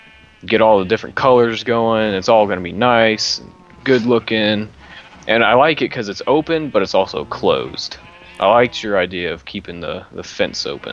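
Sheep bleating in a Minecraft SMP world, faint and intermittent beneath nearly continuous conversation between players.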